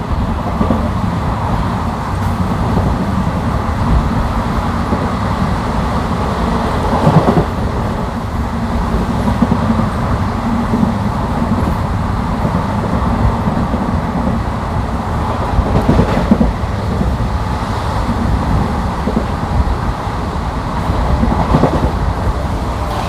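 The Mangaluru–Coimbatore Intercity superfast express runs at about 110 km/h past Cheruvathur, a loud steady rumble and roar with faint rhythmic wheel clatter throughout, no voices.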